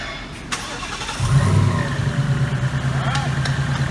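A 2018 Mustang fitted with a 3.0 Whipple Stage 1 supercharger firing up for the first time: a short starter crank, then the engine catches and settles into a loud, steady, lumpy idle close by.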